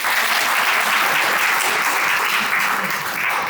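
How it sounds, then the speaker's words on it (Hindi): A large group of schoolchildren at DDU Model GIC Jajor applaud themselves, with dense, loud, sustained clapping filling the hall from start to finish. "इसके लिए आप सभी लोग अपने अपने लिए खुद के लिए तालियां बजाएं।"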